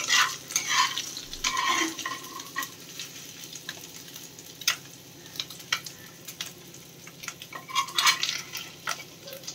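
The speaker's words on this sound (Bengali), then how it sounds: "এই যে মাথা ভাজাটা হয়ে গেছে, এবারে তুলে ফেলছি" Gentle frying sizzle of small morla fish heads with intermittent clinks and scrapes of a utensil stirring in a pan, irregular bursts over a quiet background.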